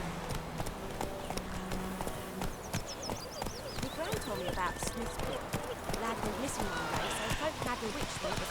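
A horse's hooves clip-clop in a rapid, steady rhythm in the video game The Witcher 3, with someone talking over them and other game sounds in the background.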